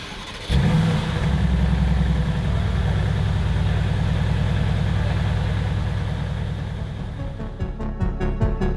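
A 2016 Mercedes-AMG GT S in Solarbeam Yellow runs close by with a steady, deep idle, low rumble holding evenly before shifting into uneven blips near the end, no voices present.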